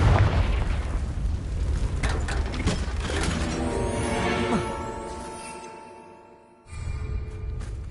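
A Confringo blasting spell goes off in the video game Hogwarts Legacy: a booming burst followed by rumbling, crackling debris and mechanical clatter that fades over several seconds, then a sudden cut to a quieter ambient bed.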